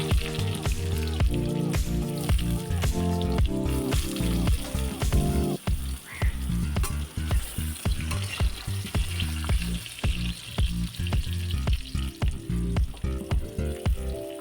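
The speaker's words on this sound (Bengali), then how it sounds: "ভেজে নেব" Potatoes frying in a pan for a Bengali milk potato curry (dudh aloo dum) give a loud, steady sizzle with dense crackling throughout.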